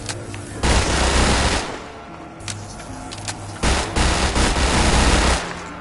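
Rapid automatic gunfire from a Zombies video game in two sustained bursts with a short gap between them, loud and close, the player running while shooting.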